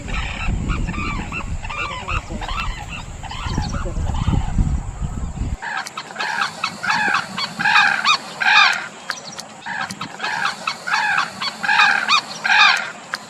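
A pair of Sarus cranes call during their courtship dance, loud trumpeting honks in rhythmic bursts, one bird answering the other's longer calls with shorter notes, close and clear over rushing wind.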